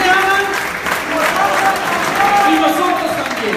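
Steady, dense clapping from a church congregation applauding the Lord, with voices calling out over it.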